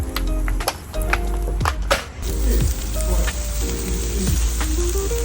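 Pork barbecue sizzling on a grill, a steady hiss and crackle of fat close up, with scattered clicks and scrapes of handling and occasional soft tonal chatter in the background.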